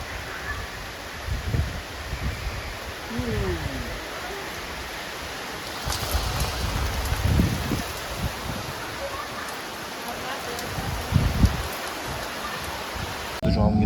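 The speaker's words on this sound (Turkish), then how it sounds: "Sese bak, sese bak maşallah. Rahmet yağıyor, rahmet." Rain falls steadily in a continuous broadband hiss close by, on a June morning in Poland, with occasional louder patters and a faint voice now and then underneath.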